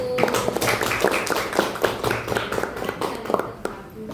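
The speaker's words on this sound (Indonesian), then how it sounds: "Tepuk tangan untuk kelompok 1" A burst of clapping from a class group, many hands tapping at once in a dense, steady patter that carries through the whole stretch.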